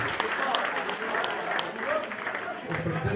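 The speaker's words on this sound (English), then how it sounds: "a big applause please for the 20 drivers who made it into the final" Audience applause for the twenty finalists at a Belgian national racing championship grand final, moderate clapping spread across the stretch with a voice talking over it through a PA.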